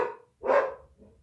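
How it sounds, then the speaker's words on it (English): A pet dog barks in short bursts, one quick bark at the start and a louder bark following a brief pause, with a faint trailing yip afterward, close by inside a vehicle. "I don't know why my dog is barking."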